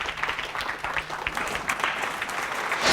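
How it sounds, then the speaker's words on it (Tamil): An audience at a Tamil speech competition claps continuously, a dense wash of applause with a few sharper individual claps standing out. "ஒரு நல்ல கைத்தட்டல் கொடுத்துடலாம்"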